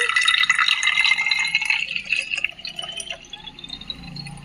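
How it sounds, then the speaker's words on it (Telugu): A homemade liquid mixture for treating mealybugs on hibiscus plants poured into a spray bottle, a trickling, splashing stream that rises in pitch as the bottle fills, then tapers into softer drips. "బాగా కలిపేసిన తర్వాత ఇలాగ స్ప్రే బాటిల్లో పోసేసుకుని"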